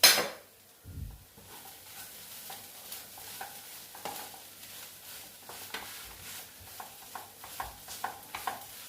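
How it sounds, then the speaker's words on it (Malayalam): A fish filling with coriander leaves and pepper is stirred in a pan with a spoon, giving repeated scraping clinks and soft sizzling over several seconds, close and fairly quiet, with no talk. "ഞാനൊന്ന് ഇളക്കുക"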